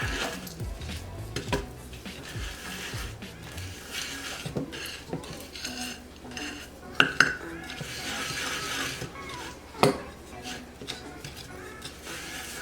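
Chocolate bar melting in a pot of mole, stirred with a utensil that scrapes and clinks against the metal, with a steady low sizzle and a few sharper knocks throughout.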